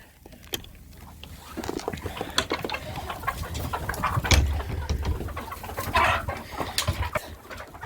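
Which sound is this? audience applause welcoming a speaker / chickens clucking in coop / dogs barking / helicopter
chickens clucking in coop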